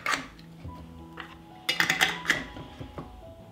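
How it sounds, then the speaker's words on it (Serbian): Glass jars being closed with new metal lids, a few close clinks and scrapes of glass and metal with short twisting sounds. "i tegle zatvaram sa čistim i novim poklopcima."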